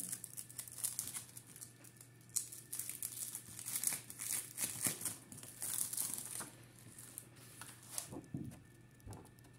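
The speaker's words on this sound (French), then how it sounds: "Alors je vais vous l'enlever du papier pour que vous y voyez mieux." Rubber stamps are unwrapped from paper, with soft, irregular crinkling and rustling close by for several seconds, quiet and with no talk.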